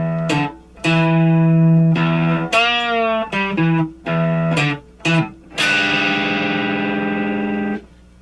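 An electric guitar in standard tuning plays a distorted riff, with loud, sustained, bent notes in choppy rhythmic bursts ending on a long ringing chord.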